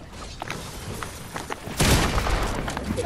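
Video game shooter gunfire: a sudden loud burst of shots about halfway through, sharper and louder than the quieter scattered thumps and clicks before it.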